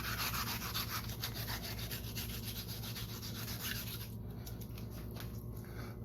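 An onion is rubbed against a kitchen grater for Jamaican-style curry chicken, making a continuous, even rasping scrape with quick repeated strokes, close and fairly quiet with no talking.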